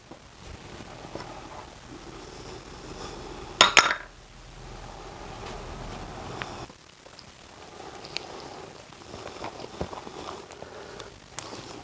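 Cornbread batter stirred in a bowl with egg and other ingredients, soft scraping and clinking of a utensil against the bowl, with a sharper clatter near four seconds, quiet and close throughout, no talk.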